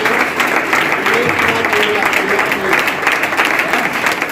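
An audience at an event clapping for a name just announced: steady, dense applause throughout, fairly loud and close, with no break.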